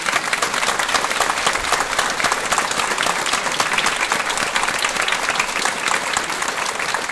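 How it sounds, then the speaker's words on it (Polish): Dense, steady applause from an audience at the 2019 Laury Ziemi Cieszyńskiej award ceremony, where an honorary Złota Cieszynianka was presented; loud, close and continuous for the whole stretch with no voices over it. "Wielkie brawa i gratulacje."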